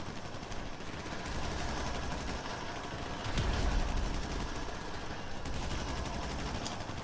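A carbine fires in Grand Theft Auto 5, with dense, rapid gunfire rattling through a continuous stream of game noise. The bursts are loud and steady, and a heavier thump comes partway through.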